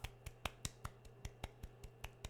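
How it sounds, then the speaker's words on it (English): Hands clap about a dozen times at an even, brisk pace. Each clap is short and sharp but faint, and a low steady hum sits underneath. "So watch when I clap."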